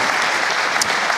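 A church congregation applauds its pastors in a steady, dense wash of clapping that fills the whole short moment, close and fairly loud, with no voices over it.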